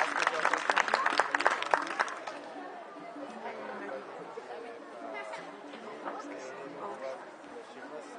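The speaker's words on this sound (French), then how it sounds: "on peut les applaudir" Audience applause at an aikido demonstration at a forum in Crosne, with a burst of clapping in the first two seconds that fades into crowd chatter and murmuring voices.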